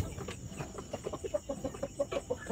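Chickens in a breeder house at night give a run of short clucks and soft calls, fairly close and moderately quiet, with a faint steady hum behind them.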